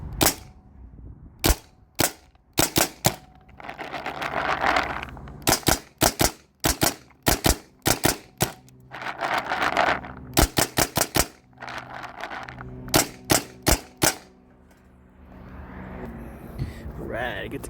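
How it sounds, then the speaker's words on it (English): Spyder paintball marker firing rubber balls, sharp loud cracking shots in quick bursts of two to four, repeated many times with short pauses filled by hissing air and background noise. "I'll shoot a couple rounds and maybe I'll step back if it's hitting me too much."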